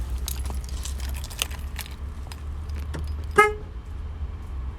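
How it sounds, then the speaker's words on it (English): Keys jangle in repeated light clinks as a car is locked, then a single short horn beep sounds clearly from the vehicle, over a low steady background rumble. "I'm just trying to lock up my car."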